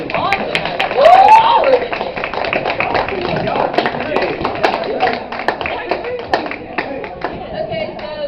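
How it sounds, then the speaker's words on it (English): A school Pride Day panel audience claps more enthusiastically for the panel members, a dense run of hand claps lasting several seconds, with a whoop and voices rising over it before it thins out. "I can really give a better round of applause tonight."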